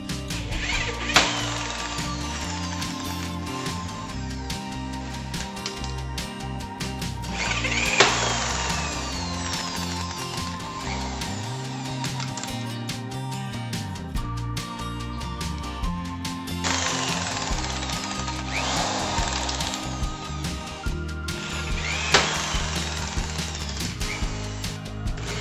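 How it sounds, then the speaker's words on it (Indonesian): A rivet tool fastens a cable duct to an electrical panel, giving several sharp metallic snaps spaced many seconds apart over a constant loud mechanical hum and workshop clatter. "Kita kencangkan menggunakan paku ripet."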